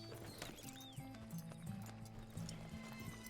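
Horse hooves clip-clop steadily in Red Dead Redemption 2, faint and rhythmic under a continuous background hum with occasional soft voices.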